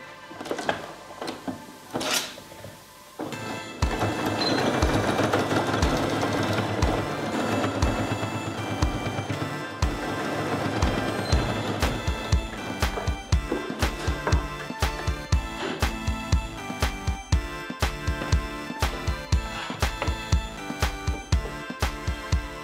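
A sewing machine stitching along a fabric edge while sewing a children's elephant cushion, with a few handling sounds at first, then a steady run of rapid, rhythmic needle thumps and motor hum at close range.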